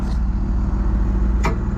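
A TM140 tractor engine running loud and close, a steady low diesel rumble with a brief rise in pitch near the end, heard on its own without talk.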